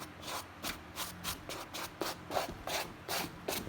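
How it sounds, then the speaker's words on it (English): A brush rubs one way against suede Clarks shoes in quick repeated strokes, a soft close-up scratchy swishing with an even rhythm. "Just keep brushing one way."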